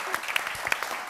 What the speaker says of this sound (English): I'm going to clap for everybody